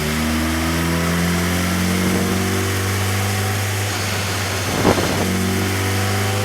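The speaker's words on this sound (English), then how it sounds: "watch what happens as we try to make a dyno run" A 2017 Suzuki GSX-R1000 engine hums steadily on a dyno, close and loud, before a sharp burst of revving near the end.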